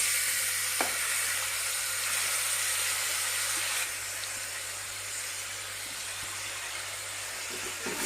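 Chopped onions fry in a pan for a chicken curry, producing a loud, continuous hiss that softens slightly partway through, with faint scraping as they are stirred.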